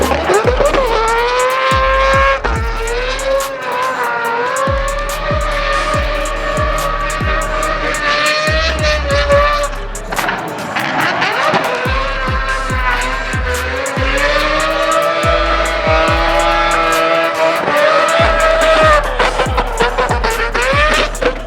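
Drift cars squeal their tires on an Irish racetrack, a continuous loud screeching wail layered over roaring, revving engines, with pitch rising and falling as the cars slide through corners.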